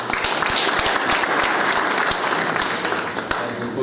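An audience at a sports awards gala in Puck commune, Poland, applauding warmly: dense, sustained clapping from a large crowd with distinct sharp nearby claps standing out.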